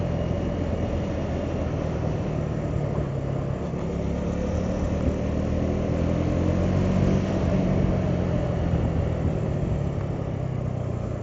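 A car engine lugs in a gear too high, a deep, strained rumble heard from inside the cabin that swells slowly as the engine climbs, steady and continuous with no talking.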